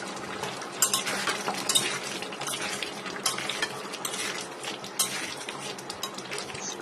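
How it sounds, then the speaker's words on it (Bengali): Cumin and coriander powder are stirred into meat cooking in a pot, with a utensil scraping and clinking against the metal over a steady frying sizzle, close and busy throughout. "এটিকেও নেড়ে চেড়ে আমি মিশিয়ে নিব"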